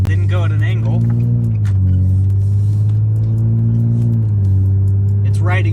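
A lifted Nissan 350Z fitted with an off-road lift kit out on a test drive, its engine a steady low drone with gentle rises in pitch as it accelerates, heard from inside the car under intermittent speech.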